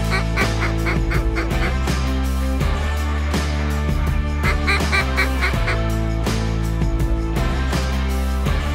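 A flock of mallard and pintail ducks quacks and calls loudly and continuously during a North Dakota waterfowl hunt, with dense overlapping calls throughout.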